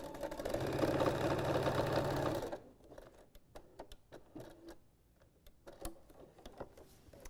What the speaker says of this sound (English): I'm going to sew across the bottom at a 1/2 inch seam allowance.